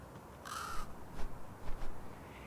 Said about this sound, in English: And we finally found the crow again!